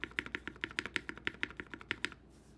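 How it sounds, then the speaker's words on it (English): Clacky, thocky keystrokes from a custom-built Bisoromi RS60 mechanical keyboard, including its spacebar, tapped in a quick, steady rhythm of about fifteen close, crisp presses before stopping. "This spacebar actually sounds ridiculous."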